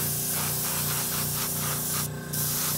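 Close, continuous hiss of a spray can or spray gun painting an exhaust part, with rhythmic pulsing, ending in a brief sharper burst of spray.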